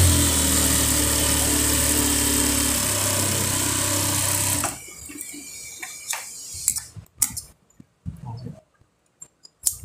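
A sewing machine runs in one continuous burst while stitching a shirt collar, then stops abruptly, leaving scattered clicks and soft handling knocks in a quieter room.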